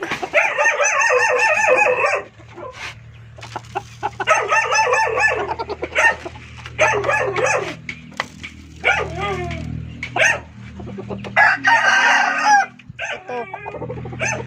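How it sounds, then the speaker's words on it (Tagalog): Several chickens cluck and squawk busily up close, with a rooster crowing repeatedly over the flock and a dog barking briefly in the mix; the chickens are hungry. "Gutom na yung mga alaga kong manok."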